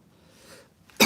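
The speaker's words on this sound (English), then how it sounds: "Oh, the hemp oil making me cough." A single loud, harsh cough bursts out suddenly at the end after near silence, while someone works on a seized vintage HPI Nitro RS4-2 nitro engine with hemp oil.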